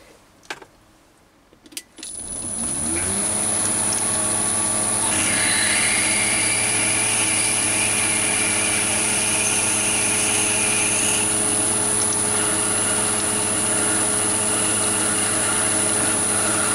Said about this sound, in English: I'm going to use a 5mm drill, which is the core diameter for the 6mm thread.